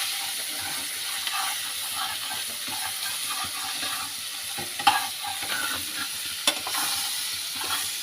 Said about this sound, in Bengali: দিয়ে বেগুনটা ভাজা ভাজা করে